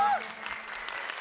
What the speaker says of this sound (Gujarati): તાળીઓના ગડગડાટથી વધાવીએ